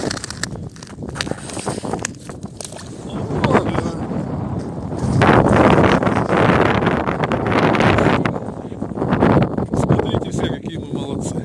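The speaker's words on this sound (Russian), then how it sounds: "Такая сегодня рыбалочка в торнадо. Ветрище." Strong blizzard wind while fishing in a snowstorm, gusting continuous roar buffeting the microphone loudly, surging hardest in the middle and swelling again toward the end, with brief voices and handling noises beneath it.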